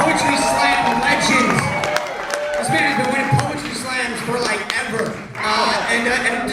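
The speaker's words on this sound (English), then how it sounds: "Tim, give a round of applause for Tim." Crowd at a poetry slam final cheering and clapping for a slam poet, loud and sustained with shouts, under a host's amplified voice.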